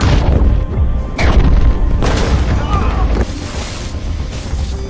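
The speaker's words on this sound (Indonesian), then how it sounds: "ledakan dahsyat pun terjadi" A heavy, booming blast with crashing rumble, followed by sustained roaring noise that gradually settles, loud and close.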